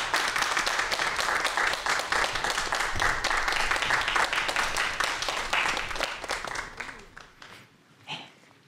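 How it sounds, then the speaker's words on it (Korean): Korean TV studio audience clapping to welcome a perfumer guest, dense sustained applause that fades out over the last couple of seconds. "정미순 대표님 박수로 모시도록 하겠습니다."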